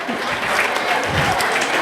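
Audience at an annual religious gathering breaks into hearty clapping for a newly married guest, a brief, dense burst of many hands with some crowd voices mixed in.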